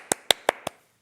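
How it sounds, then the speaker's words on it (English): Four quick, sharp hand claps at a craft event, evenly spaced and close, then silence. "I'm actually going to applaud ourselves there"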